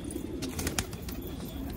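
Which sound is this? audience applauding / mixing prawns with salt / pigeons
pigeons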